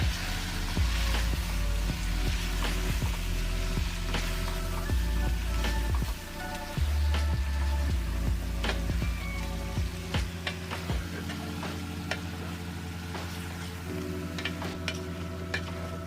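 Chicken with spice masala being fried in a pan: a continuous dense sizzle with a steady low rumble, crackles and scattered ticks running throughout, easing slightly in the second half, with no voices.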